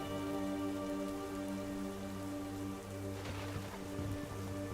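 Steady rain pattering on a surface runs through the whole stretch as background ambience for a tabletop role-play session, dense and even with no voices over it.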